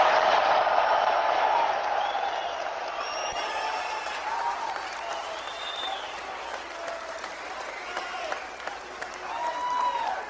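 Rally crowd in Hamilton for Pierre Poilievre applauding and cheering loudly, a sustained roar of clapping with scattered whoops and shouts, with a faint voice under the noise.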